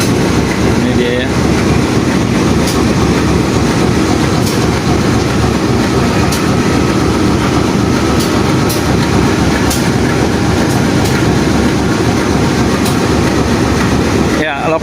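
A locomotive for the new-generation Pasundan train, heard as a loud, steady rumble of rolling rail wagons with faint rhythmic clicks throughout, close up and continuous.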